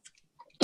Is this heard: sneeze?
yes